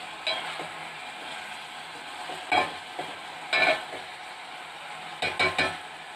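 Mutton curry ingredients frying in a pan, a steady soft sizzle running underneath a few scattered metallic scrapes and clinks of stirring in the pan, close by with no talking.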